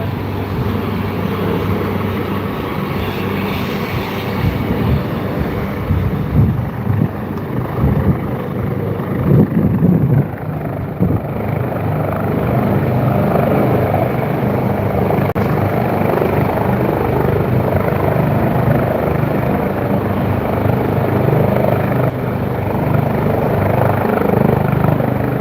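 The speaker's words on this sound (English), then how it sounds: "Try to get as close as possible to that helicopter." A helicopter flies and banks overhead in London, its rotor chop and engine roar steady and loud for the whole stretch, with wind buffeting the microphone.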